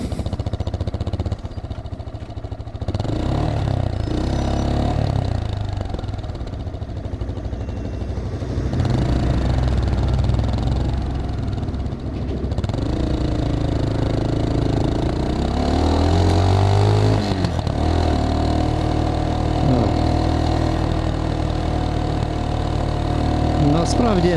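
A Geon X Road Light 250 motorcycle engine drones steadily through a city ride, with changing revs and constant road rumble, while someone talks over it.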